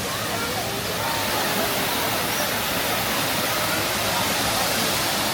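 A theme-park waterfall pours as a steady, loud, broadband rush that fills the whole clip, with no breaks.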